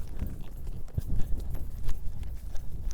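A horse walks among trees outside the arena, its hooves striking the ground in a steady clip-clop rhythm close by, with a few louder thuds and no talking.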